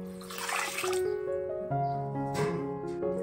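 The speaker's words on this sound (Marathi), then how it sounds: "त्याच्यासाठी पाणी घालते" Water splashes and gurgles as it is poured over soaking lentils and rice for idli batter, with rising tones as the vessel fills; a close, steady pour for a few seconds.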